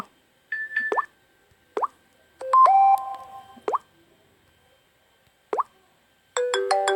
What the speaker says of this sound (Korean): 요거를 제 전화 벨소리로 사용을 하고 있어요